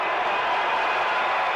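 Basketball arena crowd at Alumni Court in Storrs, Connecticut, roaring during a one-and-one free throw in a Georgetown game, a dense sustained wash of cheering and clapping throughout.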